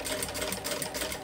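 A sewing machine stitches steadily with a zipper foot while making a fabric pencil case, running as a continuous close whirring hum for the whole short stretch with no pauses and no voices.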